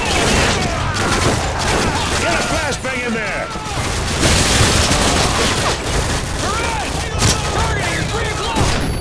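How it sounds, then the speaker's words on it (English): Dense, continuous gunfire and bursts from a Call of Duty: Modern Warfare 2 combat scene, with heavy volleys, booms and possible flashbang blasts filling the whole stretch, while voices shout over the battle. "Get a flashbang in there!"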